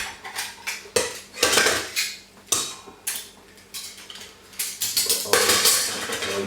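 Titanium camping cookware is handled up close, with light pots, lids and utensils clinking and clattering in quick irregular bursts over several seconds, with no talking.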